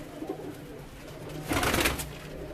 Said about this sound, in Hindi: ये देखें जी, ये हमारे जोड़ों वाले कबूतर हैं जो हमने जोड़ों में डाले हुए हैं